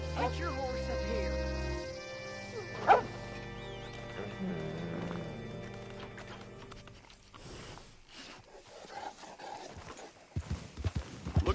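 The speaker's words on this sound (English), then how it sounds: "Get your horse up here." Horse hooves clip-clop in the Western video game Red Dead Redemption, a quiet, steady gait set under sustained musical tones and voices, fading into softer scattered steps toward the end.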